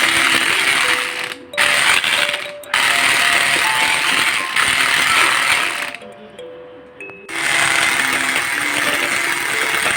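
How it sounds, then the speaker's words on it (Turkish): A packet of whipped cream powder is beaten with a glass of milk: loud, continuous mechanical whirring and rattling, close by, broken by a few brief pauses and dips in level. "Bir paket krem şantiyi bir çay bardağı sütle güzelce çırpıyorum."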